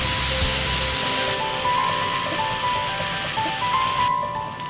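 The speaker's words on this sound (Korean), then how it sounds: "먼저 고기와 양파, 대파를 볶아주고" Meat, onion and green onion stir-fry in a hot pan, giving a steady, loud sizzling hiss that carries on without a break, with faint music underneath.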